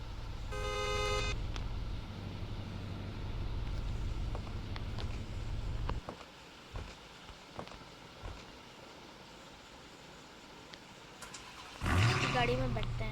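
Car engine in the Roblox video game, a steady low idle hum for several seconds that cuts off abruptly, followed by clicks and a brief loud burst near the end, with a voice speaking throughout.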